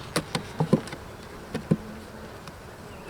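Honeybees at an open hive make faint, scattered buzzes as individual bees fly close past, with quiet gaps between them.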